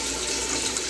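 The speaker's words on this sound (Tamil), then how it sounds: "அதனால் நிறைய தண்ணி விட்டு நீட்டாக வாஷ் பண்ணி எடுத்துடணும்" Water pours and splashes steadily over barnyard millet as it is rinsed in a kitchen, a continuous close running-water wash with no breaks.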